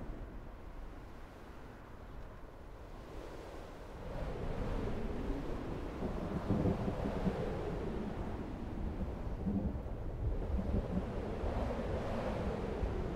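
Water waves in the video game Black Myth: Wukong, a continuous rolling wash of surf mixed with wind, quieter at first and then growing fuller and louder, with no voices over it.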